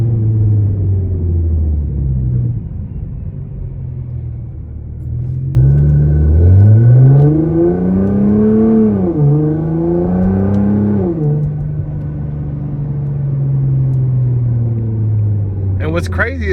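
A 2014 Nissan GT-R engine rumbles low and loud while driving, its drone swelling as revs climb midway and then settling back to a steady cruise.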